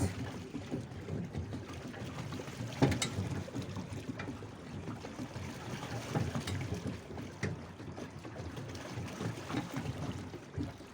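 A small boat moves across water with a steady low rumble and splashing, wind buffeting the microphone throughout, with a brief louder knock near the three-second mark.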